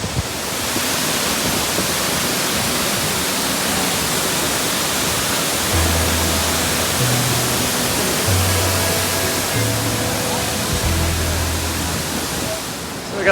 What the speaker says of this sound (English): We got the falls behind me underneath this overpass, and then that runs into this stream.